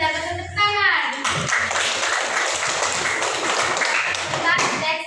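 Students in a classroom clap their hands in a sustained burst of applause after a voice briefly speaks, with voices mixed in and a teacher speaking at the end.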